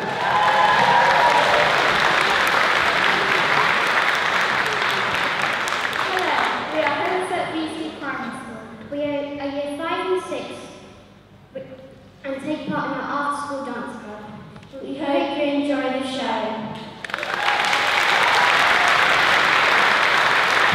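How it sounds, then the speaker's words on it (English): An audience at a primary school performance claps in a sustained, dense round of applause that fades as a presenter speaks, then swells back to full strength at the end. "Keep that round of applause going."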